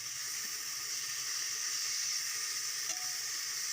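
Two medium chopped tomatoes go into onions frying in a pan, giving a steady loud hiss of sizzling oil with a faint clink near the end and no talking.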